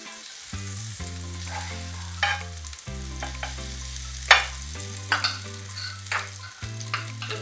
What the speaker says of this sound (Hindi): पाव सेकने के लिए थोड़ा सा बटर डालेंगे। बटर के साथ में हल्का सा घी